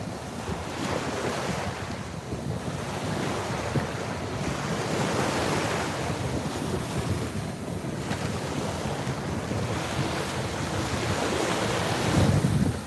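Ocean surf breaks on a Fort Lauderdale beach, a loud, continuous wash of waves under heavy wind buffeting the microphone.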